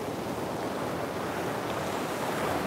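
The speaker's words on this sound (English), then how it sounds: "when the waves are loud and rolling like this, it's always a treat" Loud waves roll onto the Gulf of Mexico shore in a steady, unbroken roar, with wind rushing over the microphone and no voices.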